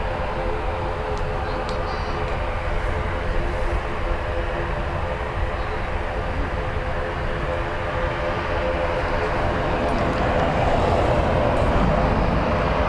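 Airbus A321neo airliner at Dublin Airport, a steady, loud broadband jet engine roar with a sustained low rumble and faint tonal whine, continuous throughout with a slight swell near the end.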